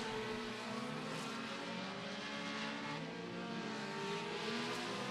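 Race car on a qualifying lap at Beckley Motor Speedway in an SCDRA compact class, its engine a steady distant drone running the whole time, with no sharp revving peaks.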